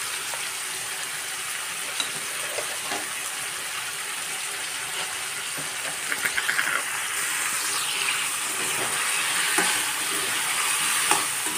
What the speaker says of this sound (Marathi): छानपैकी फ्राय करणार आहे.